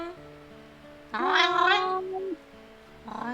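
A woman imitates a cat with her voice, giving a drawn-out nasal meow in the middle and a shorter one starting at the end, over a faint steady hum.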